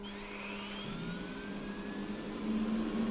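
An aircraft APU spools up in the DCS flight simulator game, a steady whining hum with rising tones that grows slightly louder toward the end, heard alone.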